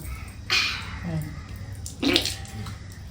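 Water is poured over a baby in two short splashing bursts, close by, with the child's faint sounds in between.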